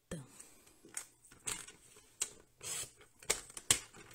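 Paper card is cut to 19 cm, giving a series of quiet, irregular snips and rustles with brief sharp clicks and pauses between them, recorded close up.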